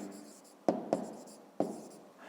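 Pen writing on paper in a math exercise, with three or four quick scratchy strokes, close and fairly quiet, with a faint hush between them.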